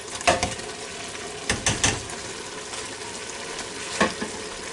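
Shrimp dropped into a hot Ninja Foodi Deluxe pot for a one-pot shrimp and sausage meal gives a steady sizzle of frying, with a few louder bursts of stirring and clatter as the pieces go in.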